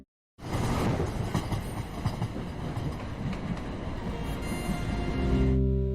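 A freight train rumbles past with a dense, continuous clatter of wheels on rails, loud and steady, with a brief silence before it starts.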